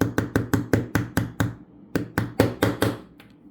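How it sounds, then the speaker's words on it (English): A small hammer drives a pin into the collar of a metal bracelet with a series of sharp, close, evenly spaced taps, about a dozen strikes broken by one short pause. "That's where you got to use the hammer."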